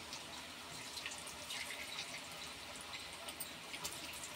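Cauliflower gobi deep frying in hot oil, a steady, faint, continuous sizzle with small crackling pops throughout and no talking.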